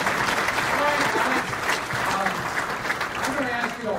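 An audience in a Beaver County public forum applauds a panelist, a dense sustained burst of clapping that is loud at first and then thins slightly, with some voices mixed in.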